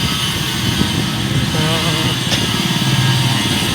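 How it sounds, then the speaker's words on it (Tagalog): A motorcycle engine runs nearby with a steady buzzing drone, its pitch wavering briefly midway. "Magkuha tayo ng motor guys."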